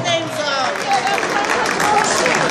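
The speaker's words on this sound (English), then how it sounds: "Let's give Aaron a, a, a special round of applause" Applause at a Bronx Day gathering in Albany as a raffle basket winner is called up, dense crowd clapping and noise mixed with voices throughout.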